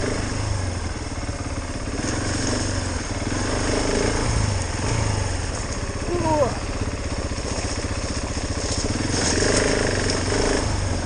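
KTM 690 Enduro R motorcycle riding off road, its single-cylinder engine droning steadily at close range with little engine braking, mixed with a rider talking throughout.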